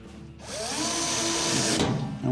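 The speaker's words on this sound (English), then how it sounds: "we'll lock down this screw that we put in the corner and continue replacing the screws on the perimeter of the rear cover" A power drill drives a screw into the rear cover of a Crosley washing machine, giving one close, continuous whir that rises in pitch as it speeds up and then cuts off.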